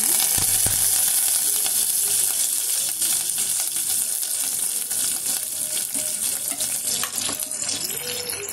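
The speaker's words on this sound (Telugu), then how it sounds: "తాలింపు వేగిపోతుంది." Garlic, mustard seeds, cumin, curry leaves and dried red chillies sizzle loudly and continuously in hot oil for a rasam tempering, a bright crackling hiss close by with occasional pops and clinks, no talking.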